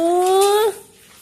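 A single short, high-pitched dog whimper, a thin whining cry that slides slightly upward before cutting off, followed by near silence.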